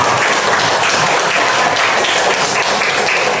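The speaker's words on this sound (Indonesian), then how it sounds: "Tepuk tangan untuk kita semua." A classroom audience applauds steadily, dense clapping that fills the whole stretch without a break, loud and close.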